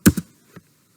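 A few quick taps on a computer keyboard, two close keystrokes followed by a lighter third, crisp and near with no voices.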